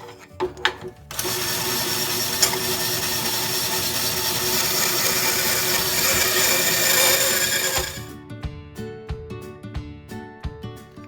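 A power saw whines steadily through exotic wood for several seconds, loud and close, cutting pen blanks, then winds down, with brief knocks before and after.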